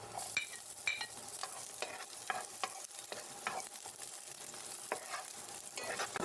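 Chopped ginger and garlic frying in a pan for ginataang tilapia, a steady soft sizzle broken by repeated scraping clicks of stirring, close and fairly quiet, with no talking.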